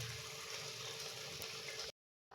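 Water bubbling at a boil in a pot on the stove, ready for rice for egg chicken biryani; a steady, dense hiss-like bubbling that stops abruptly near the end.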